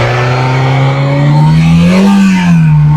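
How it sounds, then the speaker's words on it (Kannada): A 2009 Hyundai i10 automatic petrol engine runs nearby in a loud, steady hum, its pitch rising briefly midway as if lightly revved, with no voices. "ನೋಡ್ತಾ ಇದ್ದೀರಾ ಇಂಜಿನ್ನು ಸ್ಟಾರ್ಟ್ ಮಾಡಿದ್ದೀನಿ ಫ್ರೆಂಡ್ಸ್"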